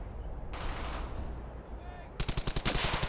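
Gunfire in the WWII shooter Brothers in Arms: Hell's Highway, starting with a wash of ongoing combat noise and ending in a fast rhythmic burst of close, loud automatic fire.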